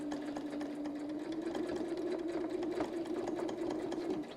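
A sewing machine quilting as a rotating pattern guide is moved beneath the needle, its motor giving a steady close hum with a rapid stitching patter.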